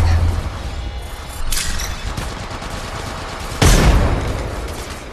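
Gunfire in the mobile shooter Apex Legends Mobile: a couple of sharp, loud bursts stand out over a steady din of game action, with no voices.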